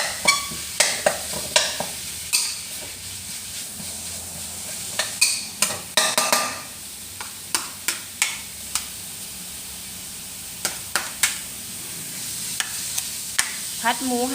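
Pork sizzles and fries in a pan while a spatula scrapes and stirs in sharp, repeated strokes over a steady hiss, close and fairly loud, with brief faint talk near the end.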